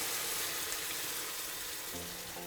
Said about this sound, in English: So you should hear it sizzle because it's hot on hot.